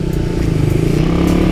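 A Raider 150 FI motorcycle being ridden, its engine droning steadily and loudly up close with a low, pulsing exhaust note throughout.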